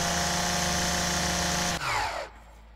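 A striper lawn mower runs in Lawn Mowing Simulator with a loud, steady motor drone, then cuts off abruptly and winds down into quiet near the end.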